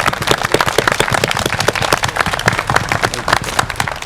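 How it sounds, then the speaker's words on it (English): A round of applause honoring Don Berryhill at a South Georgia science event, dense continuous clapping from a crowd, loud and sustained throughout with sharp overlapping claps. "I just want to give a big round of applause to Don Berryhill"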